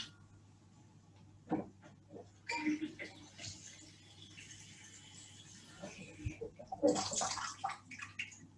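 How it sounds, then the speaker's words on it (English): Tap water runs in faint splashing bursts into a saucepan in a home kitchen while pumpkin is being prepared, with light clinks of the pan between the pours. "cover it with some water from the tap"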